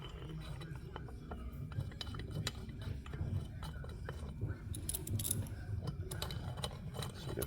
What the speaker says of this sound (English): So get the rest of these bolts in and snug them up.